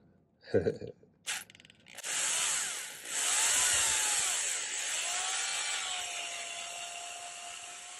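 A few short clicks and whirs, then an electric drill spins up, twisting wire for silversmithing, and runs steadily with a high whine, its pitch wavering slightly as it twists.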